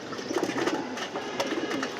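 Pigeons in a loft coo softly and steadily with low, repeated murmuring calls and a faint rustle, close by and without any talk.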